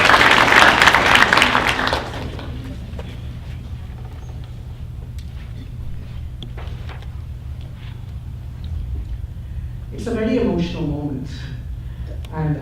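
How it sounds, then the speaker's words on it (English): An audience at a film festival screening claps in loud, dense applause for about two seconds, then fades into room murmur, with a voice speaking near the end. "A big round of applause for her."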